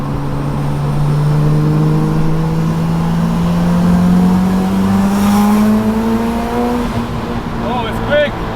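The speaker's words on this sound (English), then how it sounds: "Give it a rev." Bridgeport big-turbo Mazda RX4 rotary engine revving, a rising, buzzing note that climbs steadily in pitch over several seconds, near and loud, with a brief sharper blip at the end.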